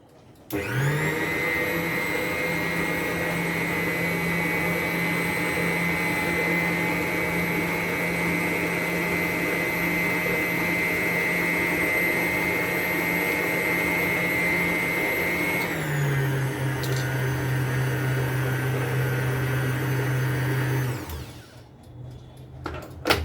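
Electric stand mixer running steadily at low speed while flour is mixed into carrot cake batter, a constant motor whine that shifts pitch partway through before switching off near the end.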